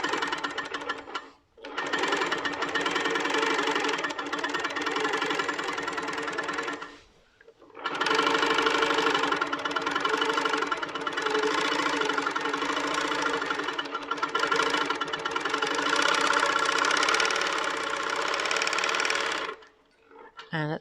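A quilting machine set to precision mode at 11 stitches per inch stitches through a quilt with a loud, steady mechanical hum and rapid needle chatter, pausing briefly twice before running on.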